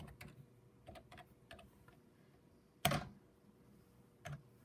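Quiet keystrokes tap on a computer keyboard attached to a Compaq Presario 7594 during a Windows 2000 installation. Scattered soft clicks are followed by one sharper, louder key press and a final tap, with no talking.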